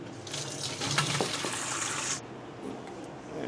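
Sliced apples for an apple pie being drained in a test kitchen: a steady wet rush of liquid and shifting fruit that fills the first two seconds, then eases to a softer trickle.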